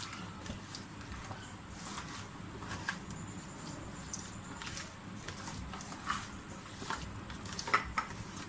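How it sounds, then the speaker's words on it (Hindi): Chicken pieces are mixed by hand with a marinade, producing soft, wet squelching and rustling close by at a low, steady level, with occasional light clicks against the bowl. "इन सब चीज़ों को अच्छी तरह से मिक्स कर लें, यानी कि मैरिनेट कर दें इसको"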